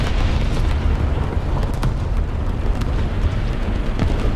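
Bombs exploding in War Thunder, a dense, continuous low rumble of blasts with scattered sharper cracks, loud and steady throughout, as from a heavy tank battle.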